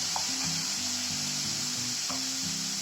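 Chopped bottle gourd drops into a hot oil tempering in a cooking pan, giving a steady, loud sizzle with a few faint clinks from stirring.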